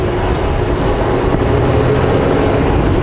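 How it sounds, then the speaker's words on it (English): A truck's engine drones steadily with its Jake brake on a lower setting, a continuous loud rumble heard from inside the cab over road noise, no talking. "That's better with just Jake brakes on one lower setting"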